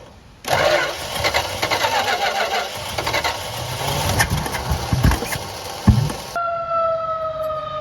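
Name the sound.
1966 Plymouth Fury III 318 engine cranking over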